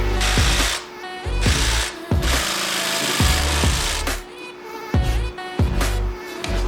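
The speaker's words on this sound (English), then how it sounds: "We're going to use our jigsaw, of course, our laminate clean cut jigsaw blades." Jigsaw fitted with laminate clean-cut blades cutting through an acoustic wall panel during a van build, loud close buzzing in several bursts with brief pauses and motor spin-down between cuts.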